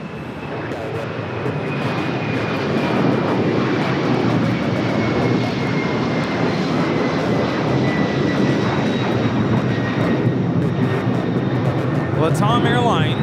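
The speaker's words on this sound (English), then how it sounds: "Latam Airlines 2479 taking off to Lima, Peru on the 767-300ER." A LATAM Boeing 767-300ER widebody jet takes off from Los Angeles bound for Lima, its engines producing a loud, sustained roar with a high whining tone, close and unbroken from start to finish.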